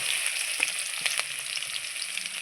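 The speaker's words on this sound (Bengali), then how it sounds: "আমার তেল গরম হয়ে গেছে এইবার আমি ফোড়নে দিয়ে দিচ্ছি রসুন ফাটানো আর কাঁচা লঙ্কা চিরা" Garlic and slit green chilies frying in hot oil for a vegetarian taro-leaf dish, giving a steady close sizzle and crackle with a few sharper pops and faint spoon scrapes, no voices.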